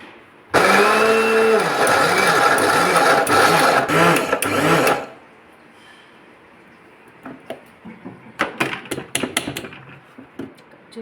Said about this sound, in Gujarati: તો હવે આપણે મૂઠિયાને મિક્સર જારમાં ક્રશ કરી લઈશું।